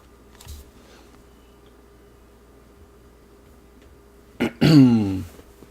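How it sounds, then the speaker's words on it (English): A man clears his throat, two short raspy voiced bursts close to the mic near the end of a quiet stretch, during an NHL 18 hockey game commentary session. "Sorry, I keep clearing my throat."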